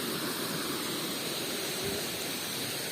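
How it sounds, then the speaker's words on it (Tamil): Steady rushing water flowing continuously at Kataragama, a full broadband roar with no voices, like a stream or small waterfall close by. "இங்கே இதில் தண்ணி பாயிற சத்தம் கேட்குதா"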